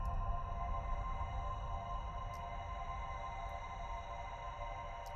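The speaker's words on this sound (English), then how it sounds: "And then you've got a nice atmospheric sound." A spacey, ethereal ambient drone made by extreme time-stretching in PaulXStretch: a steady, unbroken wash of layered sustained tones over a soft low rumble, holding at an even level throughout.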